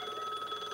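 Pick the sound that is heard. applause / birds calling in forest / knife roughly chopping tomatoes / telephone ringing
telephone ringing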